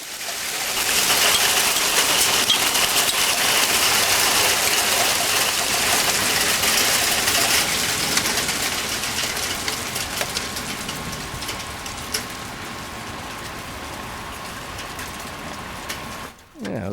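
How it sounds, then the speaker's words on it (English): Pea-sized hail falls in a dense, continuous patter that hisses steadily for many seconds. It eases slightly toward the end. "Here, a little hail."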